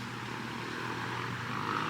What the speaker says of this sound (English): Oh, there's a plane there. Looks like he's coming in.